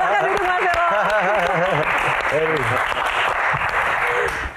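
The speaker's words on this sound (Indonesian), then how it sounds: "Tepuk tangan buat Elo." Audience applause at a live stage Q&A show: steady, dense clapping fills the whole stretch at close range, with voices talking over it at the start and again midway.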